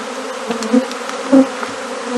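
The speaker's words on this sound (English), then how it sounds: "There are still a lot of bees" A swarm of honey bees buzzes steadily at close range, the dense hum swelling briefly now and then as individual bees pass near.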